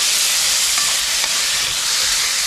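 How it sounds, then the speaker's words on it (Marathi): Ginger, green chili and garlic fry in hot oil for a cashew masala curry, giving a loud, dense, steady sizzle that holds evenly throughout with no voices. "आलं मिरची आणि लसूण तेलात आपल्याला असं जरा भाजून घ्यायचं आहे"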